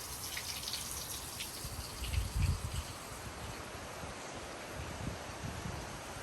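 Water trickling from a small, low source at Hinaguan makes a soft, steady wash of flowing sound, briefly swelling with a louder splash midway before settling back to a gentle, continuous flow.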